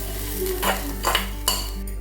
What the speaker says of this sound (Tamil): இப்போ நம்ம எடுத்து வச்சுருக்கிற இந்த மாவில் நம்ம வதக்கி வச்சுருக்கிறதெல்லாம் சேர்த்துக்கலாம்.